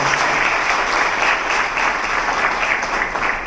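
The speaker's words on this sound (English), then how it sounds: "Another round of applause." An audience at a leadership and management event applauds, producing steady, dense clapping from many hands throughout, loud and sustained with no break.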